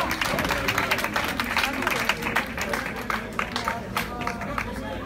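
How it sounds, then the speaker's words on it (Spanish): Audience applause at a ceremony honoring women rock and blues musicians, dense clapping mixed with crowd murmur and some music-like tones underneath, sustained throughout. "aplausos para todos los que están presentes"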